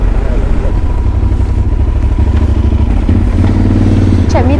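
Motorcycle engine on a touring ride at night, a loud steady rumble with rough clattering pulses that runs without a break, close and dominant throughout.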